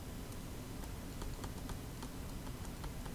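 A computer keyboard clicks under a faint hiss, with light, quiet key taps at irregular intervals.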